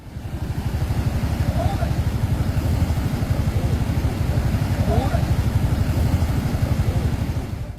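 A motorcycle engine chugs in a fast, even pulse while crossing a flooded road, loud and steady throughout, with faint voices in the background.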